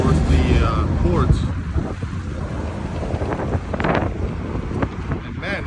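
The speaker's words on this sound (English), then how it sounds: "it's windy out here compared to Narva" Strong wind gusting outdoors near a port, buffeting the microphone with a loud, rough rumble that keeps going throughout, and a voice talks at times over it.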